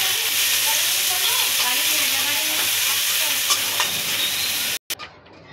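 Ginger and garlic paste hits oil with browned chopped onion for a pabda fish curry, giving a loud, continuous sizzle with stirring scrapes that cuts off abruptly near the end.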